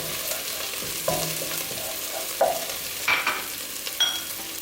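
Chillies stirred into onions, garlic and ginger frying in oil in a pan for a lamb curry: a steady soft sizzle with a few spoon scrapes and light clinks, close and fairly quiet, no voices.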